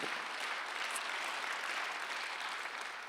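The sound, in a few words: church congregation applauding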